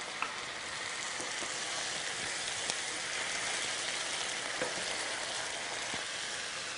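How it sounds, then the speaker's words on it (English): White wine sizzles steadily as it deglazes a pan of caramelizing onions and mushrooms, a loud, even frying hiss with faint scattered pops and no voices. "we want to add 1/4 cup of white wine to this to kind of deglaze the pan"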